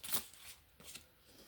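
Oracle cards being handled and shuffled, a short faint flutter of card riffles followed by a softer second shuffle, close and quiet with no talking.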